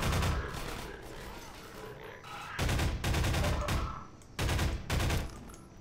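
Bursts of rapid gunfire in the video game Half-Life 2: Episode One, coming in several loud clusters separated by short pauses, with game noises in between.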